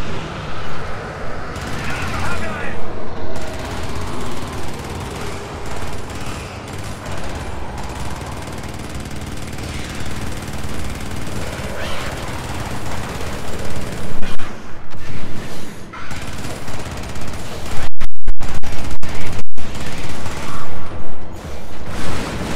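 Sustained heavy automatic fire from a minigun in the video game Helldivers, loud and dense with layered combat noise, with talk over it and sharp gaps near the end.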